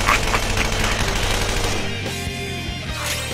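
Rapid gunfire in a video game, a dense, loud burst of shots over busy game sound that eases off partway through.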